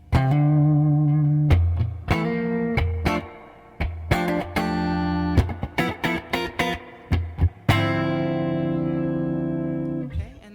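An electric guitar on its bridge humbucker pickup plays sustained chords and short stabs with a bright, distorted tone, ringing loudly with pauses between phrases.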